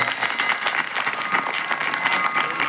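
Audience applauding at a religious Ram Katha discourse, a dense steady stretch of many hands clapping with irregular sharp claps, moderately loud and continuous with no talk.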